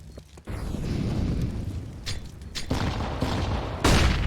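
Grenade blasts during a competitive esports shooter match, booming and rumbling over a steady bed of game noise, with a few distinct detonations and a louder one near the end.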